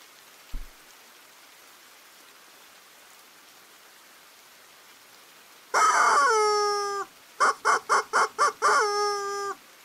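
A chicken clucks in the game RE: The Bathhouse, one drawn-out squawk followed by a rapid series of short, clipped clucks over a soft rain-like background hiss.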